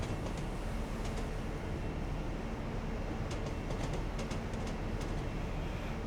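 A train pulls into Newton Abbot station in Train Sim Classic on the Plymouth to Exeter route, a steady broad rumble of rolling stock with faint rhythmic clicks of wheels over rail joints and no talking.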